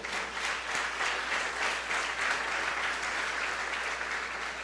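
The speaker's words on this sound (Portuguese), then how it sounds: "Você pode aplaudir o Senhor?" A church congregation applauds during a sermon, a dense and continuous clapping that stays loud and even for several seconds, with a low hum beneath it.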